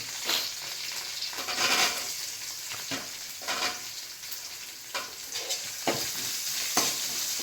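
Small onions sizzle in hot oil with a continuous hissing crackle, rising and falling in waves as a spoon stirs and turns them through the pan at close range.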